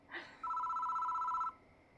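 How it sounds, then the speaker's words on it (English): A telephone rings once in the horror game Spirit Hunter: Death Mark, a steady electronic bell tone lasting about a second, loud and close after a brief soft rustle, with no talking over it. "The phone rings."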